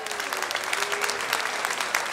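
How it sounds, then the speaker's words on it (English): A live music show crowd applauds a guitarist with a steady, even wash of many hands clapping, sustained and fairly loud throughout, with possible faint voices underneath. "Give Davey a round of applause."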